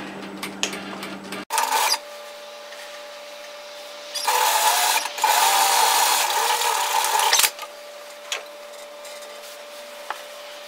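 A sewing machine stitches a 1 cm sleeve seam on a puff sleeve top, running in a short close burst and then a longer steady run of several seconds, with quiet pauses between.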